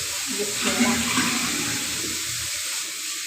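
Water pouring steadily into a clay pot, a continuous rushing splash at moderate loudness with faint voices underneath.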